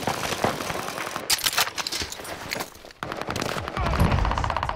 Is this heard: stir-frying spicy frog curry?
no